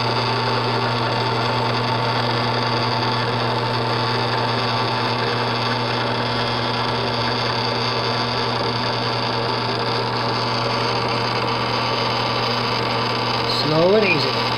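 A drill press running with a specialty tool: a steady electric hum and motor whine that holds constant throughout, with a brief rising squeal near the end.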